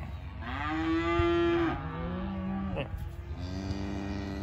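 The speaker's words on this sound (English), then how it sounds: "Calves will be yelling enough for the pair of them," Farm cows and calves mooing, several long drawn-out bellows one after another, loud and close, with a shorter call in between and no talking.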